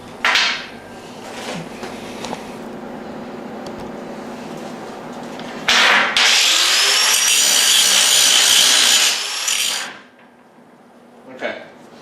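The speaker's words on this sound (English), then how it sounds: "So let me grind a bevel and show you what I mean." An angle grinder cuts a bevel into steel plate to prepare it for MIG welding. Two short bursts come first, then a sustained, loud grind of about four seconds before it stops, with a faint tap near the end.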